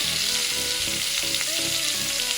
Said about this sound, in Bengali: এখন এগুলোকে একটু ভালো করে ভেজে নেব।